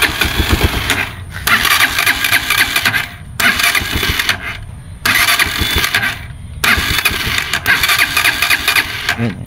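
A TMX Alpha motorcycle engine is cranked and fires up several times, with bursts of loud close running separated by short gaps before it catches and keeps going.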